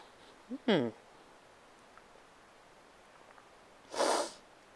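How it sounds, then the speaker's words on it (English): A short sharp intake of breath leads into a quick sneeze, then a second louder, breathy sneeze bursts out a few seconds later in a quiet room. "going to hear me sneeze in a minute."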